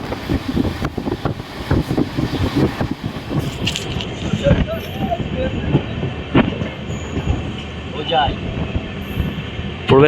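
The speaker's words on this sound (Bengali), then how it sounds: "প্রবেশ করলো আমাদের ট্রেন হোজাই স্টেশনে" The 13125 Sairang Express rolls into Hojai station with a loud, steady rumble and clatter of wheels, broken by brief metallic squeals and a faint high whine near the end.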